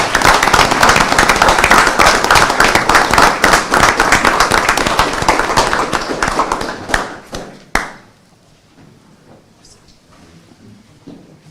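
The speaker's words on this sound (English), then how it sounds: "So let's give them a round of applause." A room at a city council meeting applauds volunteers with steady, dense clapping for about seven seconds. The clapping fades out, a sharp thump follows, and then comes quiet room tone with faint talk.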